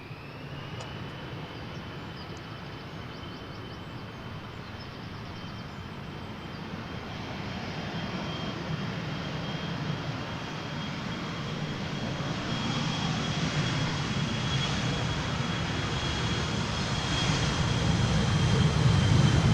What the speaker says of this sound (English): After him, the flight to Leeds will depart on the E90.